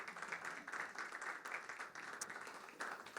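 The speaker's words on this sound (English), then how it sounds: "This is when you applaud wildly for our sponsors." Steady luncheon audience applause, fairly faint and distant, a continuous patter of many hands clapping.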